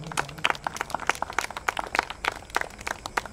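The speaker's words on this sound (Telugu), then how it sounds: "నమ్మిన వాళ్ళు ఒకసారి గట్టిగా చప్పట్లు కొడదామా?" Audience applause at a gospel team's second anniversary celebration, a run of sharp, uneven claps from a modest crowd, rising and falling throughout at moderate loudness.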